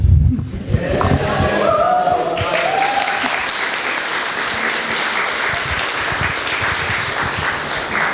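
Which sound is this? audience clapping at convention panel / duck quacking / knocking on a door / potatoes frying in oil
audience clapping at convention panel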